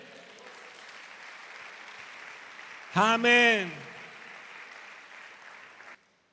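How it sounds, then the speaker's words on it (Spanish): Church congregation applauding for God during a Spanish-language sermon, soft diffuse clapping running under a sung or shouted voiced exclamation in the middle before cutting off. "¿Puedes dar un aplauso a Dios?"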